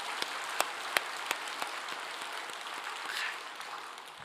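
Congregation clapping during a Sunday church service, with sharp scattered claps among a steady wash of applause that stays fairly even and moderately loud throughout.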